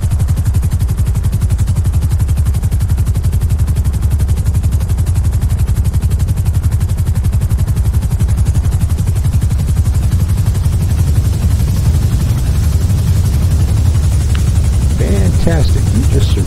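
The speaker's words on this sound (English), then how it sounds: "You just survived your first helicopter landing." A helicopter in the video game GTA V descends to land, its rotor chopping in a loud, steady, fast pulse throughout, with a voice speaking briefly near the end.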